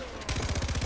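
Rapid automatic gunfire in Far Cry 4 starts abruptly and rattles as a fast, evenly spaced string of loud shots, continuing to the end of the short burst.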